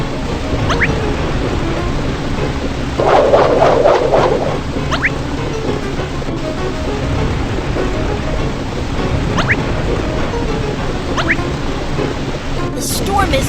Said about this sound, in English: Watch out! The storm is getting stronger!